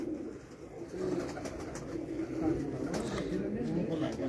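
Teddy pigeons coo in a loft, a steady low murmur of overlapping calls running throughout, with people talking over the birds.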